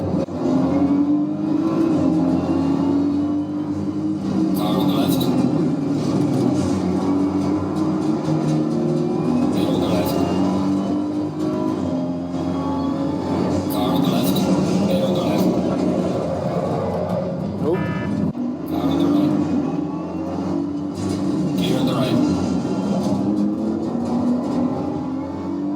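A Ford Fiesta's engine rises and falls in repeated revving surges from inside the car on the move, a loud, close drone under occasional conversation.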